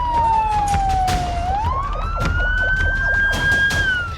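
Ambulance sirens wail through city streets in Damascus after airstrikes, a steady, loud electronic siren whose pitch glides down and then rises again, carrying on continuously over low street rumble with no talk.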